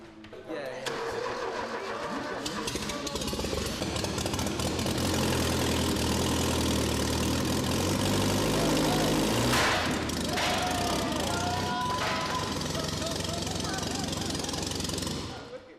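A log splitter's engine runs loud and steady throughout, with rough mechanical chugging and a few sharp cracks partway through as a log splits, while people talk over the noise.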